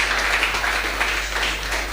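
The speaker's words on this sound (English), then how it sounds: "I think that's worth a round of applause" Audience applause at a fight league press conference, a brief, steady wash of clapping from a room full of people, fairly even throughout with a low hum beneath.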